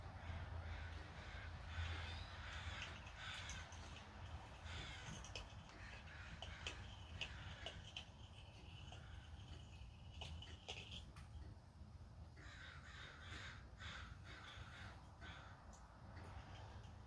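Crows caw repeatedly outdoors near a workshop, several birds calling at a moderate distance in irregular bursts over a steady background hum.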